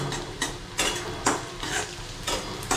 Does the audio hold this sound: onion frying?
yes